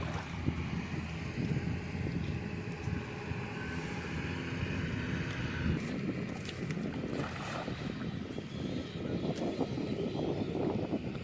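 Steady wind buffets the microphone beside the Padma river, a continuous low rushing roar with faint water and boat-like noise underneath, no voices.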